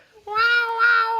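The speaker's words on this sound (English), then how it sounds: "the way they used the best sample there is, the neighbor's cat in the corridor" A single cat meow sampled into a heavily distorted, saturated beat, a drawn-out tonal cry rising and holding for about a second, close and loud.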